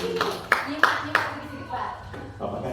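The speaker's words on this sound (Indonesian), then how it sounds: "tepuk tangan dulu Pak" A few people clap in short separate bursts during an Indonesian classroom or workshop session, with talk continuing between and over the claps.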